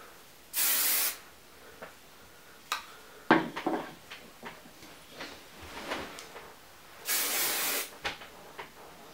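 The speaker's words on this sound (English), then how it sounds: "shake while I spray" Two short hissing bursts of hairspray from an aerosol can onto curls, separated by soft rustling and handling noises close to the microphone.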